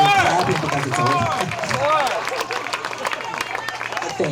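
Hands clap in a brisk run of sharp slaps, starting under a speaking voice and continuing on alone as the talk fades.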